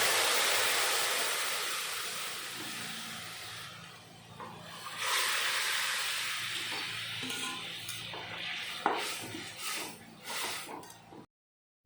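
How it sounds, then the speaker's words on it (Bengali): Kochu gathi broth poured into a hot mustard-seed tempering, a loud close sizzle and hiss that swells as the liquid hits the oil, then settles into steady bubbling with a few clinks before stopping abruptly. "এখন এর ভিতরে গাটির ঝোল ঢেলে দেব।"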